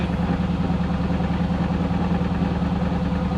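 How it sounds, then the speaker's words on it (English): The engine of a 2016 Mercedes-AMG GT S idles roughly, a steady, close low rumble with an uneven pulsing throb and no voices over it. "Feels like it's idling rough as hell."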